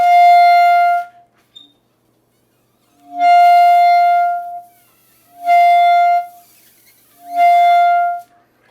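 A clarinet played with a clamped, pinched embouchure sounds four sustained high clarion notes, each starting a little late and holding steadily before stopping, separated by silent gaps, close and solo.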